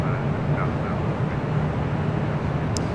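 A China Airlines Boeing 777-300ER arriving at LAX from Taipei gives a steady, broad jet roar with a low rumble. The sound holds evenly throughout, without talk.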